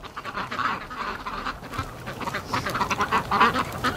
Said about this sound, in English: Hello, duckies!